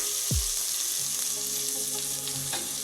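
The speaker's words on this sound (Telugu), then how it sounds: "ఇప్పుడు పుదీనా వేసుకుందాం చాప్ చేసుకున్న పుదీనా అలానే కొంచెం కొత్తిమీర ఒకసారి ఇలా కలుపుకొని" Mint and coriander being stirred into mushroom pulao as it fries, a steady close sizzle under a few scraping stirs of the spoon against the pan.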